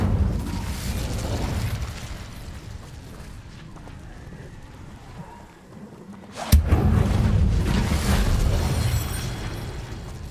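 An Incendio fire spell cast in the Hogwarts Legacy game, a sudden sharp blast followed by a loud roaring burst of flame that gradually fades, over a low rumbling background.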